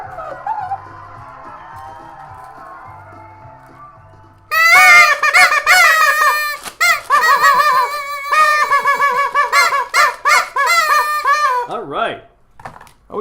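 Radio birthday jingle on a live show, a loud, blaring sung tune in harsh honking tones like a goose, starting abruptly after calmer background music and running in choppy bursts before cutting off.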